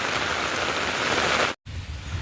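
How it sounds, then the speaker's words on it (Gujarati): Heavy, continuous rain pours in a dense, even hiss over flooding farm fields in a Gujarat village, with a brief drop in sound before the downpour resumes. "વરસાદ એક ધારો જો મંડાણો છે કે ધીરો ધીરો થતો નથી"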